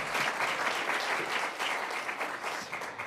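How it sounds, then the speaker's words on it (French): An audience at a conference presentation claps for a presenter, giving dense, even applause that holds steady for about three seconds before starting to fade. "Vous pouvez l'applaudir."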